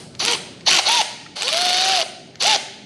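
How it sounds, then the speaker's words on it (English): A ratchet tightens camshaft cap bolts on an RB engine swapped into an S14 drift car, with four loud, close bursts of rapid clicking separated by brief pauses, the longest in the middle. "just nipped all of the bolts up to where they're tight"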